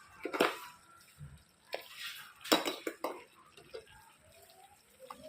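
Mutton curry being mixed with ginger garlic paste in a pot, a spoon scraping and clanking against the metal in a few sharp bursts with soft wet stirring between them, close by and without talk.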